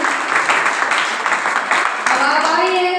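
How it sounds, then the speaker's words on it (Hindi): A seated group at a Bhaktamar class gives vigorous applause, a dense, loud burst of clapping at close range, with a voice speaking briefly near the end. "जोरदार तालियां।"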